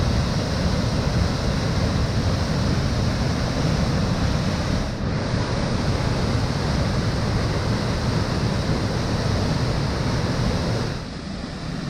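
A powerful waterfall roars in a steady, loud, unbroken rush of water that fills the whole scene.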